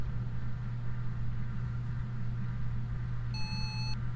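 A faint electronic beep from an EMF reader in the video game Phasmophobia, a steady tone rising briefly near the end, over a constant low hum and background rumble.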